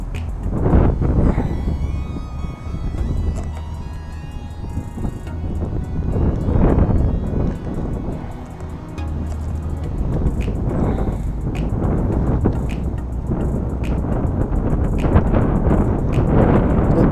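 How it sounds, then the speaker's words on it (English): Strong, cold wind blows outdoors on a bass fishing trip, buffeting the microphone in loud, continuous low rumbling gusts that rise and fall throughout. "it's super, super windy"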